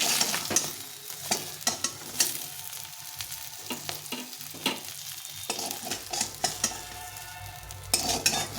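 Pieces of fish being lifted and turned in a hot pan of mustard oil, steady sizzling broken by sharp scraping and clinking of a metal spatula, close and without voices.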